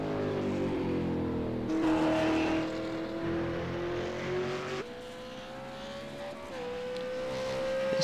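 A single race car circles Monza in the iRacing sim, its engine holding a steady high whine that climbs through the gears, dips sharply at a shift and rises again, close and continuous with no talk.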